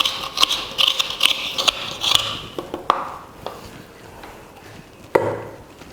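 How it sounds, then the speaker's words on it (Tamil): Fresh coconut being grated on a grinder's coconut grater for a white kurma paste, giving repeated rough scraping strokes with short knocks, close up and fairly loud, then thinning to sparse scrapes. No one speaks. "இப்போ இதில் தான் இப்போ நான் தேங்காய் துருவல் பண்ண போகிறேன்"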